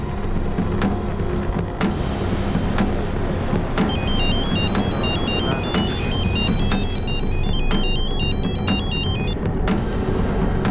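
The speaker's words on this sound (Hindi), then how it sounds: "आप जुबैर भाई को फोन लगाइए अभी।" A telephone rings after a call is placed, its electronic ringtone warbling repeatedly in the middle of the stretch over a dense, busy background of TV drama sound.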